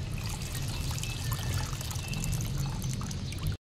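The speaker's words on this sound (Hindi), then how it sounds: "इमली के अंदर पानी ऐड करके इमली को 1 से 2 बार साफ पानी से हल्के हाथ से वॉश करना।" Water pours steadily over tamarind in a bowl to rinse it, a continuous splashing trickle lasting a few seconds before stopping abruptly.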